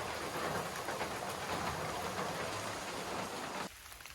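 Rain falls steadily on the Appalachian Trail near Dragon's Tooth on a cold day after two days of downpour, a dense, close patter that stops abruptly shortly before the end.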